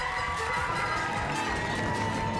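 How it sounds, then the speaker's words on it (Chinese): An audience at a Taiwanese variety show claps steadily, with dense, continuous applause and crowd noise at full loudness throughout and no clear speech. "掌声鼓励"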